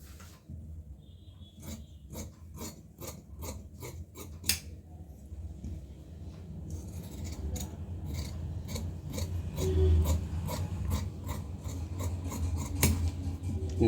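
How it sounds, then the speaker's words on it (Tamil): Scissors snip steadily through blouse sleeve fabric in a sewing room, a rhythmic run of crisp rasping cuts close by, with no voices. "இப்போ நம்ம ஸ்லீவ் கட் பண்ணிக்கலாம்."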